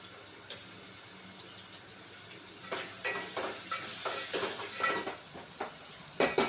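Onions frying in oil with salt and turmeric for a coconut-milk bagara rice, a low sizzle under irregular stirring scrapes and clinks of a utensil against the pan that grow busier toward the end.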